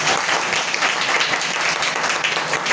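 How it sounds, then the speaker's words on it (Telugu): A church congregation claps loudly together in a dense, sustained burst of applause that runs evenly through the whole stretch with no talking over it. "గట్టిగా చప్పట్లు కొట్టు"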